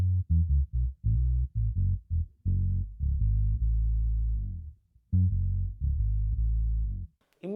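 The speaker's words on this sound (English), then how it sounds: "I'm a fuzz guy, so I'm gonna use an emulation of a Big Muff" A bass guitar through a Big Muff fuzz emulation plays a clean-sounding riff of short repeated notes and a few sustained ones, with little audible fuzz.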